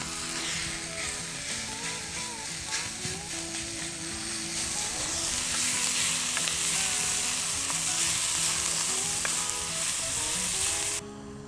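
Ground beef sizzling and frying on a grill for overbaked tacos, a dense, continuous crackling sizzle that swells louder partway through, with faint stirring scrapes and a steady tonal hum beneath.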